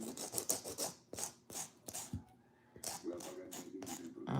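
A nail file rasps along the sides of gel-x nail extensions in quick back-and-forth strokes, close and crisp, broken by a short pause before the filing resumes.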